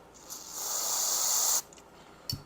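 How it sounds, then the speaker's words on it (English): A close, sharp hiss of an aerosol cleaner sprayed onto a dirt oval RC car's CVD drive shaft, held for about a second and a half, then a short clunk afterward. "use some type of a cleaner. Spray it on the CVD."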